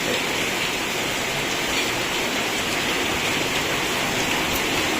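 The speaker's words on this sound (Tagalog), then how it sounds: "Matagal na ulan" Heavy rain pours down steadily during flooding, a dense unbroken hiss with no pauses from start to finish.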